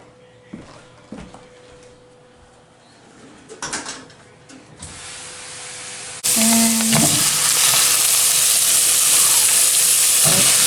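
Garlic and onions being stir fried for rosemary lemon chicken: quiet stirring and scattered clinks at first, then a sudden loud, steady sizzle as they hit the hot pan, with a few scraping strokes.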